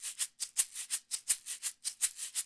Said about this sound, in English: I went and found this shaker.